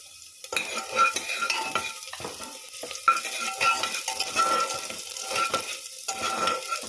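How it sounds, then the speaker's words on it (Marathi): Onion dropped into hot ghee fries with a steady sizzle while a utensil stirs and scrapes the pan, close and fairly loud, with clinks of metal throughout and no talking. "तूप गरम झालेलं आहे. यात आता कांदा टाकते."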